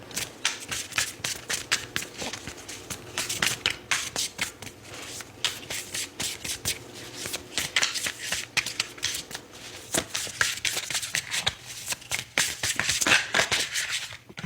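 Tarot cards being shuffled for a reading: a long run of quick, crisp riffling and flicking bursts, close and quiet, with no talking.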